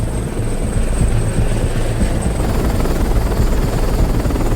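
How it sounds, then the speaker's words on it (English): Helicopters in an attack on a prison convoy in an action film scene, a loud, continuous rotor thumping and engine roar filling the whole stretch, no speech. "his convoy is attacked by helicopters"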